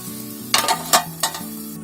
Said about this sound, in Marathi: तवा तापला की गॅस मिडियम करायचा आणि आपण त्याच्यावरती पीठ टाकायचं.